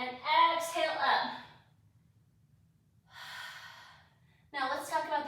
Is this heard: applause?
no